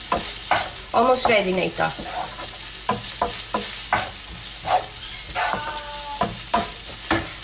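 Food fries in a pan seasoned with salt and pepper, with a steady sizzle under repeated scraping stirs of a utensil, moderately quiet, as a voice speaks briefly.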